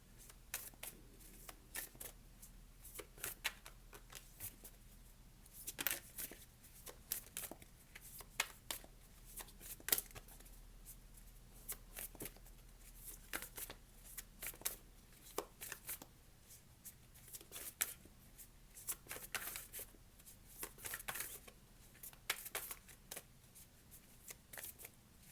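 A deck of tarot cards is shuffled steadily and without pause, with quick papery riffles and soft slaps of the cards repeating at a near, moderately quiet level.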